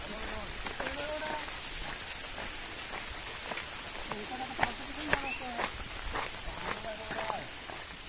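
Steady rain falls and patters on surfaces in a rural Konkan setting, a soft, even hiss throughout with a few sharper drop impacts, while voices talk intermittently over it.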